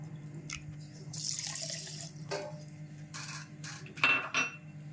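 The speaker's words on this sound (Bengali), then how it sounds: "এবার চালটা আমি ছেঁকে নেব।" Soaked rice being drained of its water, heard as splashing, trickling runoff and a few metallic clinks and knocks of a strainer and vessel in a kitchen, with short bursts of pouring.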